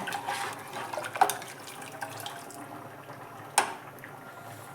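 Soft running water with light splashes and a couple of sharp clinks, fairly quiet and close, as water is poured into a metal cooking pot with coriander, to boil.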